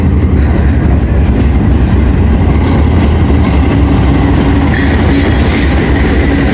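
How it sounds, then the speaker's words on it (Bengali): An express train pulls into Chaman railway station in Balochistan, Pakistan, with a loud, steady rumble of wheels and rail cars, and faint clickety-clack running throughout, close and continuous. "আমাদের ট্রেন চলে আসছে,"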